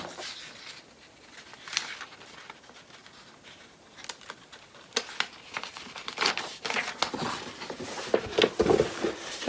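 Paper pattern piece being handled and taped, with crinkling and rustling, brief tape tears and scattered taps, close and moderately loud, growing busier toward the end.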